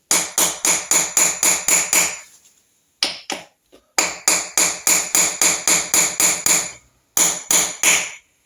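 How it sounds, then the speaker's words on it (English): Steel hammer gently tapping locating dowels into a Triumph Trident T160 engine during cylinder head fitting, a close run of quick, evenly spaced metallic taps in several bursts with short pauses between. "try and make sure they're straight as possible, and then just gently tap them in"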